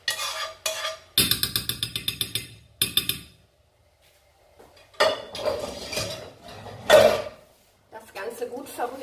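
A spoon clinks and scrapes against a pan of oil and vegetables for a vegan pumpkin spinach lasagne in short bursts, with pauses between rounds of stirring and brief metallic taps.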